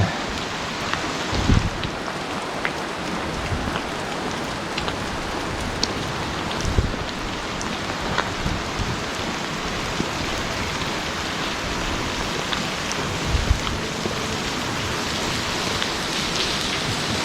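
Heavy rain falls steadily at Kamikochi, a dense, unbroken wash of rain on surfaces with occasional louder drops and soft low thuds throughout, no voices.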